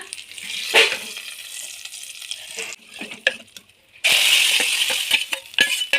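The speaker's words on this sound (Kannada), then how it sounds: "ಈಗ ನಾವು ಮಾಡಿರುವಂಥ ಒಗ್ಗರಣೆಯನ್ನು ಇದಕ್ಕೆ ಹಾಕೊಳ್ಳೋಣ" A hot tempering of curry leaves and asafoetida poured into a pot of dal: quiet stirring and clinks first, then a loud, sustained burst of sizzling for the last seconds.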